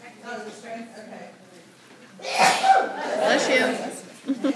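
A person sneezes indoors, one loud, sharp burst after some soft background chatter, followed by a brief breathy tail.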